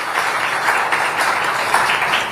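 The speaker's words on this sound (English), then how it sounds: "please give my panelists a big round of applause" Audience applause for the panelists at the close of a tech summit panel discussion, a steady wash of clapping that stays even and fairly loud throughout.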